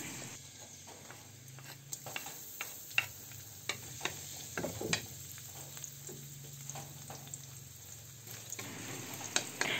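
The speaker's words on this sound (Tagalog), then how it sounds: "Ayan, mainit na ang mantika. Ilagay na natin ang hiniwang bawang." Sliced garlic sizzles in hot oil in a pan, a continuous soft crackle under frequent light clicks and scrapes as it is stirred.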